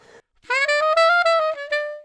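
A short chromatic jazz riff drawn from a rhythm-changes solo, played as a quick run of bright, reedy legato notes over about a second and a half, alone and close.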